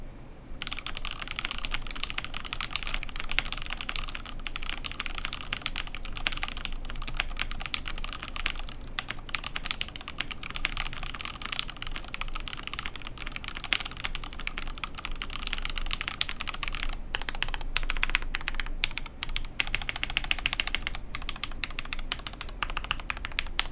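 Typing on a Nooir Noland N1 magnetic levitating keyboard produces a steady, rapid patter of soft keystrokes. The clicks are close and fairly muted and run continuously on their own, with brief pauses in the flow.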